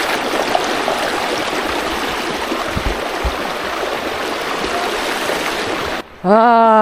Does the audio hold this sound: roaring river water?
yes